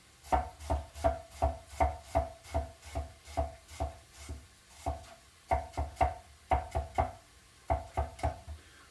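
A knife slices through a small onion on a cutting board in a steady run of crisp, evenly spaced chops, close and clear, with one short pause midway and no talking.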